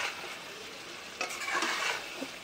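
Fried potatoes stir-fried in a pan with a steady close sizzle, broken by a few scraping stirs of the spoon against the pan, with no talk.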